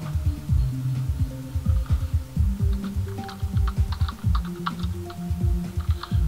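Rapid, close computer keyboard typing with a dense run of clicky keystrokes, playing over faint Geometry Dash game music.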